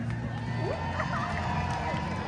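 A crowd at the National Cherry Blossom Festival Parade in DC cheers and shouts in a continuous, dense outdoor roar, with scattered voices rising above the mass.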